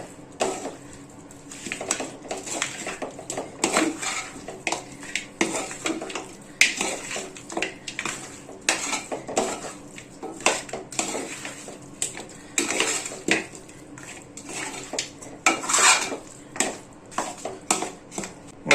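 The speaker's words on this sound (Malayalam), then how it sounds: "മല്ലിയിലയും കൂടെ ചേർത്ത് കൊടുത്ത് നല്ലപോലെ ഇളക്കി പേർട്ടി കൊടുക്കണം" Mutton roast stirred with coriander leaves in a pan, a busy run of metal spoon scrapes and clanks against the pan in uneven bursts, close and without talk.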